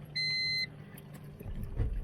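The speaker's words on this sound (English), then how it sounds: "Sorry for the beep, I'm sure that's gotta be loud." A single sharp electronic ignition warning beep sounds for about half a second in a 1992-2000 Honda Civic, followed by a low engine rumble and faint clicks.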